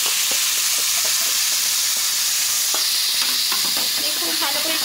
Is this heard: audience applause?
no